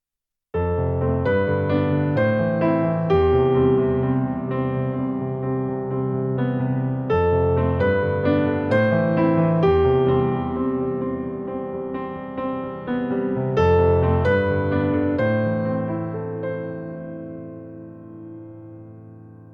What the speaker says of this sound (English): Today I'd like to show you how to take a simple chord progression